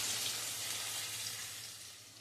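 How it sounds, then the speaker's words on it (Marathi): Chopped onion frying in a pan for paneer masala, a steady close hiss and sizzle that holds evenly and fades slightly toward the end, with no talking. "हा कांदा छान गुलाबीसर रंगावर येईपर्यंत परतून घ्यायचा आहे"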